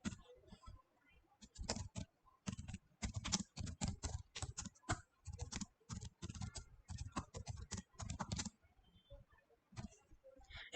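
Fast, bursty typing of C code on a computer keyboard, with dense clusters of close key clicks, brief pauses between runs and softer taps near the end, with no talk.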